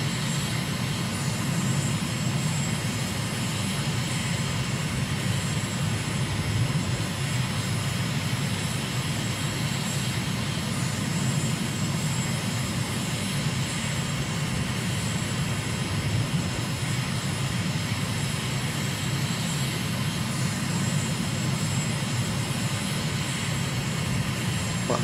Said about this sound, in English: And nice easy approach today to runway 23 left at Damascus.